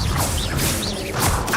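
A Levioso spell is cast in Hogwarts Legacy with a whooshing magical burst and crashing impact. The sound is loud and close, with layered swishes over a brief moment.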